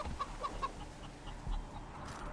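Turkeys in the Wicked World video game give soft, repeated clucks and gobbles, faint and fairly close, in a quiet stretch with no talk.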